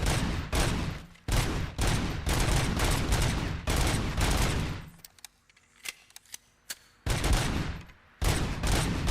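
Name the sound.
gunfire in Robocop Rogue City video game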